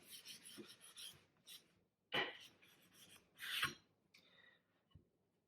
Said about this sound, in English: please flatten the surface of the whetstone